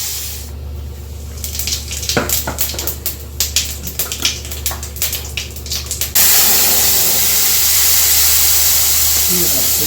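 Koi fish fries in hot oil with a steady, loud sizzling hiss that swells into a continuous roar, punctuated earlier by crackling pops and spatters while a voice talks nearby.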